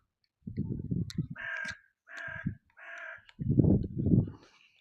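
A crow caws outside a workshop, giving a few harsh calls at moderate distance, while a man mutters low in the foreground before and after the calls.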